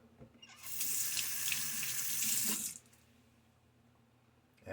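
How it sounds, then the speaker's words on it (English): Tap water runs into a sink to be added to shaving lather on the brush, a steady close splashing stream for about two seconds that then stops, leaving quiet. "Let's keep adding water."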